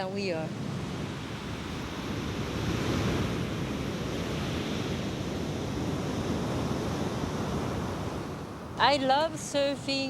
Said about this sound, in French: plus l'océan se déchaîne, plus les vagues grandissent et déferlent